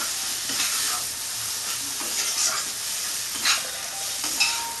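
Spiced masala for Bengali-style rui fish kalia being stir-fried in a pan, with a steady sizzle and repeated scraping strokes of a spatula close up, no talking.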